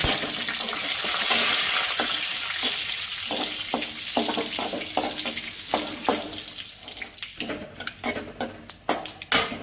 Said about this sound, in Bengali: ওর মধ্যে আমি গোটা গরম মশলা, গোটা জিরে আর কয়েকটা তেজপাতা ফোড়ন করে দেব